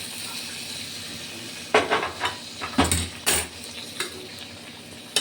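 Shukto being stirred in a pan after fried bori are added: a few distinct scraping, clattering stirs over a faint background sizzle, close and fairly loud, with no speech.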